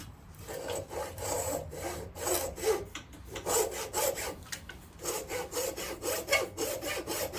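Hand sawing a kerf into a wooden axe handle for a vintage Collins double bit axe, a close, steady back-and-forth rasp of strokes with a short pause midway.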